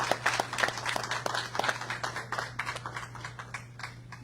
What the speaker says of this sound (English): A round of applause for Congressman Al Green